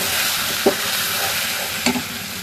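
Hilsa fish sizzles steadily while frying in a pan, with a couple of brief stirring scrapes over the continuous loud frying noise, close up.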